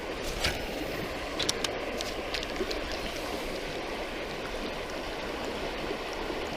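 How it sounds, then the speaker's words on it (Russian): Rushing water over the rapids of the Moksha river in Mordovia, a steady broad roar that stays close and even throughout with no talk, and a few faint splashes near the start. "Здесь два порога. Мокш еще вон там обходит. Здесь островочек. Вода шумит."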